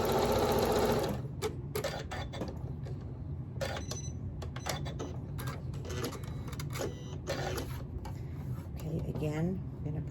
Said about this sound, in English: And just sew 1/4 inch.